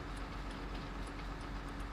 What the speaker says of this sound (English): Oh, just missed the bloody train.